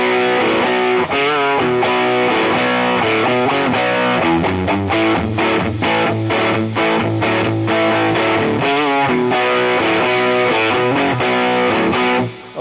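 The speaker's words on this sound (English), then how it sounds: "the main riff in the very beginning of the song sounds like this." Distorted electric guitar plays the main riff of a hard rock song, built in B5 position with bends, a loud driving chugging pattern heard up close and alone throughout.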